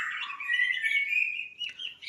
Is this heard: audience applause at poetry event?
no